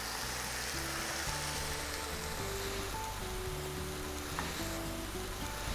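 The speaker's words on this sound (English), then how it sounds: "Turn my pan off, cream can go in." Cream hits a hot pan of caramelised mushrooms and sizzles in a steady, loud, hissing wash, with faint tonal clatter in the background.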